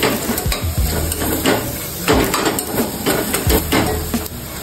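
Chili powder sautéing in a pan for dried bombil khichdi, cooked over a wood fire. A steady sizzle runs under repeated clinks and scrapes of a spoon stirring against the pan, close and fairly loud, with no talking.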